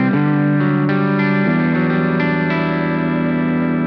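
Clean electric guitar played through a Boss GX-100 multi-effects unit with its X Compressor, sustained chords and notes changing every half second or so, even and loud with no talking.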